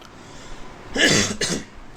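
Two quick, close coughs in a row from a person with a cold, the first stronger than the second, in a quiet room.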